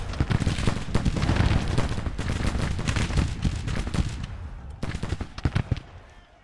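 Musket volleys crackle in the Civil War strategy game Grand Tactician: The Civil War. Dense, overlapping rifle shots rattle in ragged bursts, close and loud, briefly thinning before another flurry, with no talking.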